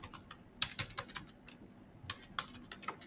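A search query is typed on a computer keyboard, soft irregular key taps and a few sharper clicks, close and quiet, with no speech over it.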